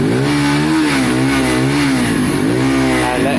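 A Benelli Keeway 125cc motorcycle engine runs steadily after a carburettor clean, idling close by with a loud, continuous buzz that rises and falls gently in pitch, with no talk over it.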